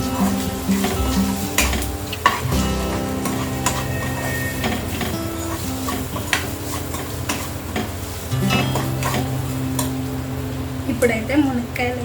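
Ginger garlic paste and turmeric frying in a pan for a drumstick curry, with a continuous sizzle, metal spoon stirring and scraping against the pan, and someone talking throughout.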